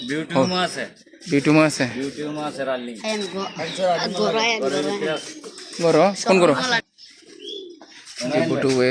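Pigeons cooing and chirping at a pigeon seller's house, the birds loud and close while people talk continuously over and between the calls.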